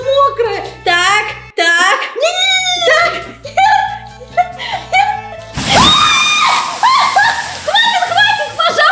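During a draw-and-guess challenge, water is dumped onto a person: loud shrieking and laughing voices give way to a sudden broad splash and slosh, with squealing continuing over the water.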